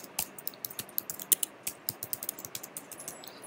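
Typing a command in a terminal on a computer keyboard, a quick close sequence of crisp key clicks at irregular intervals with a few louder strikes, no talk.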